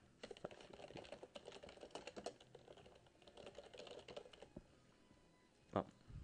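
Rapid keystrokes on a computer keyboard while writing ActionScript 3 code, a quiet close run of irregular clicks with a sharper isolated tap near the end.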